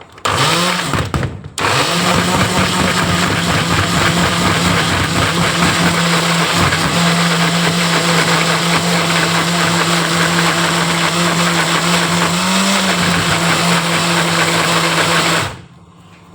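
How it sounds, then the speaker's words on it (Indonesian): Kitchen blender chopping small-cut onions, a steady loud motor whine running continuously for about fourteen seconds after a brief start, then stopping abruptly. "Masukin ke dalam blender sekali."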